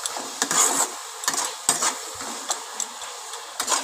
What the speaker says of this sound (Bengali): আবার একটুখানি নেড়ে নেব।